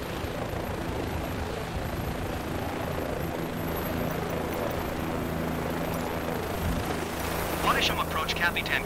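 A Bell 407 helicopter in Microsoft Flight Simulator drones steadily with rotor noise the whole way through, loud and continuous, with a brief burst of higher, brighter sound near the end.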